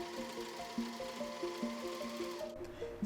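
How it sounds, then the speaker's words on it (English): A serger runs continuously while finishing the fabric seams of a button-up shirt, giving a steady close motor whir with a fast, even stitching rhythm and small shifts in pitch. "I'm finishing my seams here with a serger."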